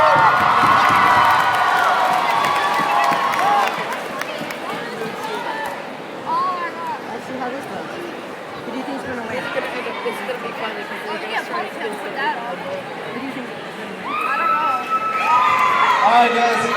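Children in a school assembly audience cheer and chatter loudly as a crowd, with a burst of shouting at the start, a steadier babble through the middle and rising excited voices near the end.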